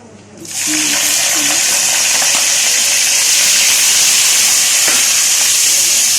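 Chopped onions hit hot oil in a pan for chicken dal maash and burst into a loud, steady sizzle that starts abruptly and holds close and even throughout.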